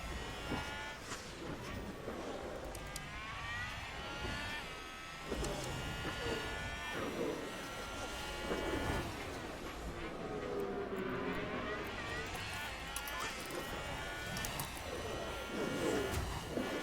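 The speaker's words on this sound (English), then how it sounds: "Seems like Magnussen still has damage. You can hear his car." A damaged Formula 1 car in F1 Manager 22 drags something as it runs, heard as a continuous high engine whine whose pitch rises and falls, with other race cars and faint commentary beneath.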